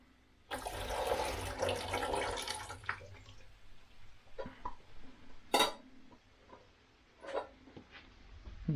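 Water poured out of a pot of cooked peas through a lid held as a drainer, a rushing splash lasting a few seconds, followed by scattered clinks and drips, fairly quiet.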